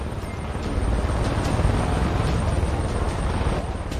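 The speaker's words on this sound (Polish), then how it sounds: "Niestety przez moją nieuwagę zostałem wykryty przez śmigłowiec." Helicopter in the video game Far Cry 5: a steady, throbbing rotor thump with a rumbling drone, continuous and fairly close for the whole stretch.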